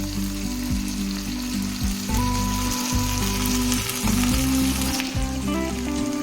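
Ground spice paste hitting hot oil with golden-browned onion and tomato, a steady close sizzle and crackle of frying throughout, with a few clinks of a utensil; no talking.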